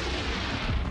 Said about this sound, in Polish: Mieszkańców obudził głośny wybuch.